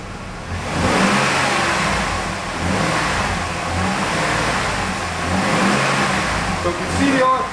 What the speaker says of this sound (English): Now I'm going to race the car up just a little bit.